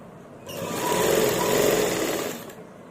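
Close, loud sewing machine runs in one continuous stitching burst for about two seconds while sewing a salwar, swelling and fading smoothly with no talk.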